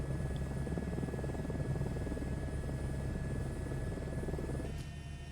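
A helicopter in Microsoft Flight Simulator 2024 drones with a steady, dense rotor thrum and engine hum, loud and continuous, easing slightly near the end.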